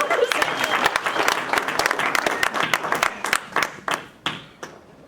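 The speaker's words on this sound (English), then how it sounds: "let's just give a round of applause to Lesley and Frank" Audience at a sales event applauds the speakers, a dense burst of many hands clapping that thins out into a few scattered, separate claps as it fades.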